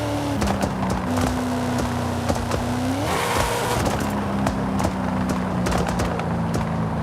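Dodge Dart drag car in Forza Horizon 5 with anti-lag, its engine droning loud and steady with shifting pitch, rapid crackling pops and bangs peppering the run, including a rising rev near the middle.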